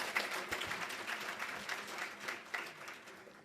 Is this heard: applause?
yes